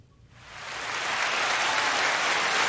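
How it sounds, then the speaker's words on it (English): An audience breaks into applause that swells from near silence to a full, even wash of clapping and holds there. "More sophisticated and uppity applause, but it's fine."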